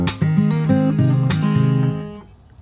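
An acoustic fingerstyle guitar plays the first bar of a melody, running through quick hammered and pulled notes in a scale-like line before ringing out, close and solo.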